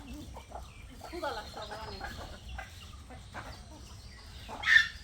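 Chickens cluck in bursts while squabbling with pigeons over food, with a sharp louder squawk near the end and faint voices in the background.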